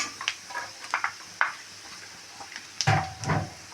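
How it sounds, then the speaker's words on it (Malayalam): Onion sautéing in coconut oil in a pan gives a soft sizzle punctuated by several sharp spoon scrapes and clinks against the metal, close by, with a louder burst of frying near the end. "പാനിൽ ഞാൻ ഒരു ടേബിൾ സ്പൂൺ വെളിച്ചെണ്ണ വീത്തിൻ്റെ അതിൽ സവാള ഇടണം."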